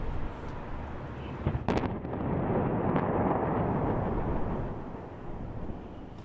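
Rockets fired from Gaza into Israel roar out as a broad, rumbling blast, with sharp cracks near the start giving way to a sustained heavy whoosh that swells and then fades, heard outdoors with wind buffeting the microphone.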